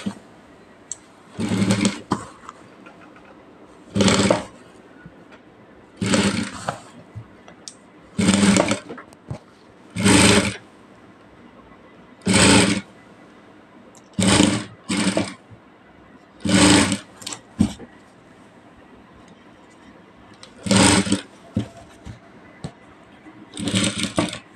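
Sewing machine stitching around a garment armhole, running in about eleven separate short bursts of rapid whirring separated by pauses, fairly close and loud with no talking.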